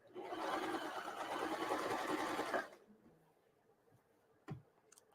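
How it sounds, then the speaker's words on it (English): A sewing machine stitches a heater bag in a kids' sewing class, running in a fast steady whir for a few seconds before stopping, followed by quiet room tone and a single click. "we're going to keep on sewing"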